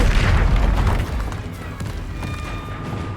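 A loud, booming Confringo spell explosion in the Hogwarts Legacy game, a heavy blast at the start that fades into a rumbling tail and quieter ambience.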